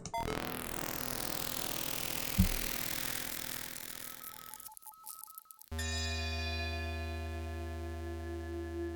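A gong being manifested in the video game Taxinaut: a dense, shimmering synthetic wash that cuts out, then a steady, resonant ringing tone with layered overtones that sustains to the end.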